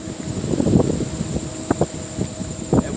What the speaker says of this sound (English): That wind feel good,